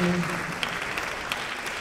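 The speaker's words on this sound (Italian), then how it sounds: "accogliamo con un grande applauso" Audience applause at an opera gala concert for the finalists of an international singing competition: dense, sustained clapping from a large crowd throughout, with a voice briefly heard at the start.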